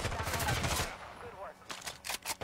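Rapid automatic gunfire in a video game shooter, with bursts of shots at moderate volume at the start and again near the end, mixed with game effects and a player's voice.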